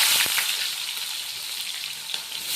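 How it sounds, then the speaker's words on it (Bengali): Onions fry in hot oil for mutton curry, a dense continuous close sizzle with a few light stirring knocks, and no voice heard. "এবার আমি পেঁয়াজগুলো ভেজে নেব।"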